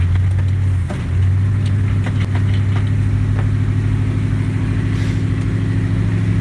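A truck engine turns over and settles into a loud, steady idle with a deep low rumble. Brief clicks and rattles sound over it early on, and the running stays close and continuous to the end.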